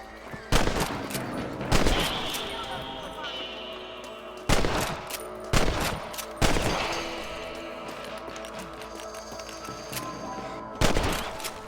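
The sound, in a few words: rifle shots at rabbits in video game Red Dead Redemption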